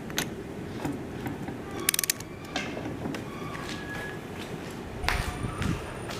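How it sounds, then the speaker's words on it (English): Rotax 912 aircraft engine crankshaft being turned by hand, giving soft creaks and ratcheting mechanical clicks scattered through the clip, close by and fairly quiet. "I gotta turn the crank."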